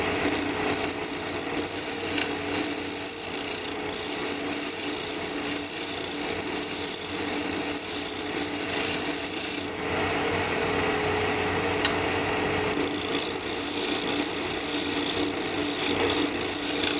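A small 3/4 inch Sears power tool shapes cocobolo wood with a continuous, loud, rasping whir that dips briefly quieter partway through before resuming at full strength.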